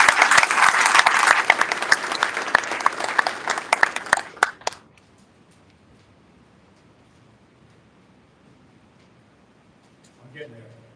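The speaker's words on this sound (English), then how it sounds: "a big round of applause for all the distinguished guests" Audience applause at a military change of command ceremony for a mission support group, loud and dense with echo, lasting about four and a half seconds before cutting off into near silence, with a faint murmur near the end.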